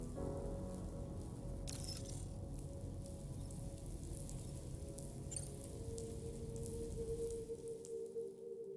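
Rain falls in the video game Death Stranding 2 on PS5 as a steady, dense patter of drops, with a low background hum and a couple of brief sharper crackles, and no voices.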